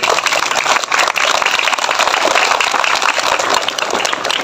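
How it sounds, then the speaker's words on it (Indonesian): An audience at a flag-raising ceremony applauds the ceremony officers, a dense, steady wash of clapping held at a loud, even level throughout. "Untuk itu kita berikan tepuk tangan buat para petugas."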